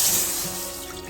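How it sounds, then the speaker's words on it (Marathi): Water pours into a hot kadhai set on a gas flame, the start of a sugar syrup for peanut vadi, giving a steady hissing, splashing wash that is loudest at the start and eases slightly after. "कढई तापली की त्यामध्ये गरम झाल्यानंतर मग एक वाटी पाणी टाकायचं"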